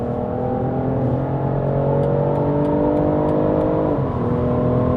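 A BMW X5 50e M Sport Pro plug-in hybrid downshifts and accelerates at speed, the engine's steady drone rising in pitch and then dropping briefly at the shift, heard from inside the cabin with road noise.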